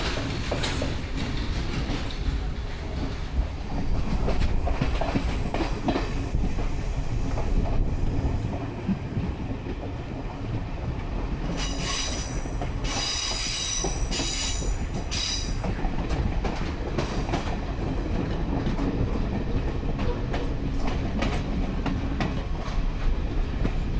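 Onboard a train departing Colombo Fort railway station in Sri Lanka, a continuous loud rumble of wheels on track fills the ride, with rhythmic clatter and a burst of high metallic wheel squeal partway through.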